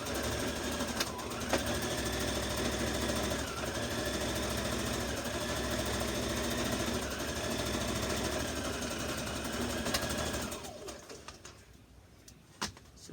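A sewing machine runs steadily while stitching a jumpsuit seam a quarter inch from the previous line, a fast, even mechanical whir with a brief pitch dip, stopping near the end to leave quieter room noise and small clicks.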